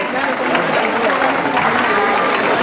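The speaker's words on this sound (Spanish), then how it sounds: "Fuerte aplauso para mi ayudante." A crowd at a children's holiday party claps for a magician's assistant, loud, dense and sustained applause with some voices mixed in.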